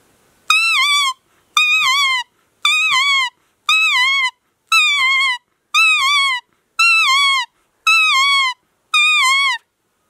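A musical car horn plays a nyauli bird call tune. Nine long, loud, evenly spaced falling tones repeat steadily, clear and alone.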